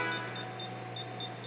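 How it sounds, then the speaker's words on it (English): Digital angle gauge beeping in a garage during wheel alignment work on an all-wheel-drive-converted Acura RSX, giving short high electronic beeps in a quick regular rhythm, close and fairly quiet over faint background hum. "see when it's beeping like that, it's at a perfect 90-degree angle, or zero"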